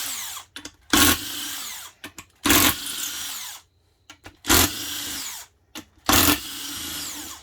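A power impact gun removes transmission bolts on a 2003 Honda Odyssey with a P0730 incorrect gear ratio fault, firing four loud, close rattling bursts of about half a second each, separated by quieter shop sounds and pauses.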